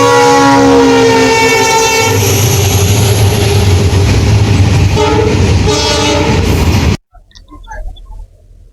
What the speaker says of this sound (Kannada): ಈಗ ನಾವು ಬಂದಿದ್ದೀವಿ ಗಿಣಿಗೆರೆ ರೈಲ್ವೆ ಸ್ಟೇಷನ್ಗೆ